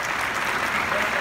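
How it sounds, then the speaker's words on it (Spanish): Applause at an export award ceremony as a winning services company is announced, a steady, dense clapping from a large audience filling the hall. "Un fuerte aplauso"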